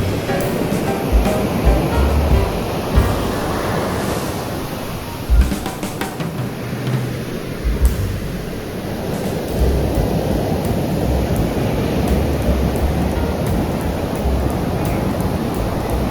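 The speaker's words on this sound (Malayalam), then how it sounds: "പതഞ്ഞാണ് വെള്ളം തീരത്തോടടുക്കുമ്പോൾ ഒഴുകുന്നത്." Sea waves froth onto the sandy shore at Vettukad Beach in Trivandrum on a calm sunny day, a continuous loud wash of surf with gentle surges and a steady roar, no talk.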